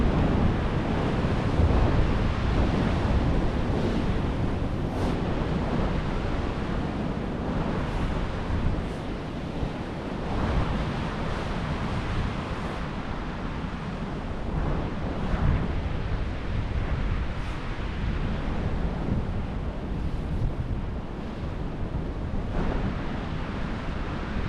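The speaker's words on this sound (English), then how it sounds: "Wind's a bit fresh." Strong wind buffets the microphone over constant surf breaking on the shore at Newbiggin-by-the-Sea, a loud, dense roar with periodic swells of wave wash and gusts.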